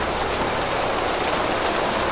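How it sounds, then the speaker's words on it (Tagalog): Heavy rain pouring down outdoors, a dense, even hiss of wash with no break and no voices. "Sige lakas ng ulan to."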